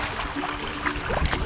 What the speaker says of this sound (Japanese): この波の感じがね、最高なんですよ。